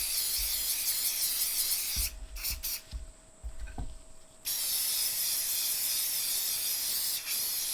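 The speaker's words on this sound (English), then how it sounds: "the first thing we need to do is coat these potatoes in the oil" Cooking oil goes onto potatoes for an air fryer with a steady, close hiss. The hiss breaks off midway for a stretch of soft knocks and handling noises, then resumes.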